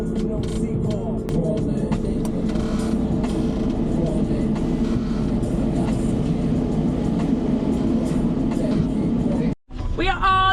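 Inside a Eurotunnel shuttle carriage loaded with cars and vans, a steady low rumble and rattle of the moving train fills the space, with a brief dropout near the end followed by squealing tones; people talk over it.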